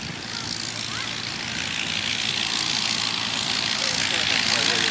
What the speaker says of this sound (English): he's taxiing into the wind